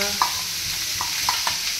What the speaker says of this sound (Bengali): এখানে প্লেন মাছ ভাজা হচ্ছে